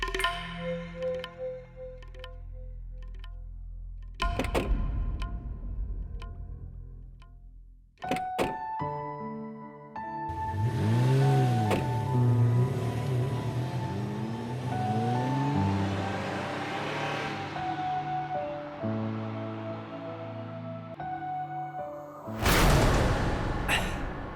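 A car in a dubbed Indian drama series: doors thunk shut a few times, then the engine runs and moves off with a steady rumble and whoosh, and a final thud near the end.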